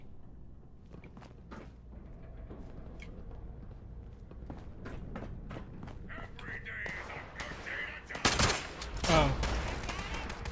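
Gunfire in the video game Fallout 76 breaks out near the end as a couple of loud, dense bursts, following a stretch of footsteps and scattered clicks, with a brief voiced exclamation in between.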